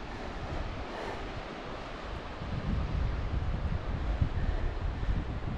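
Baltic Sea waves washing onto the rocky beach of Fårö island under steady wind, a continuous broadband rush that swells louder partway through, with gusts buffeting the microphone.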